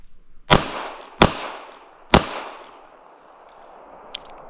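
Three sharp, loud pistol shots from an S&W Bodyguard 2.0 at an outdoor range, spaced about a second apart, each followed by a short echoing tail, then a faint click.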